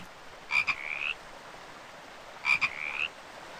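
A frog in a VRChat world croaks twice, each call a short rising, buzzy croak about two seconds apart, clear and alone over quiet background.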